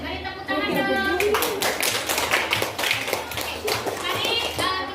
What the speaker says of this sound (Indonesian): Mari tepuk tangan dong.